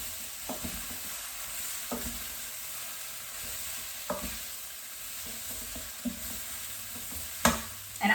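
Vegetables for cashew chicken frying in avocado oil in a pan, a soft continuous sizzle broken by periodic scraping stirs, fairly quiet and close, with no voices.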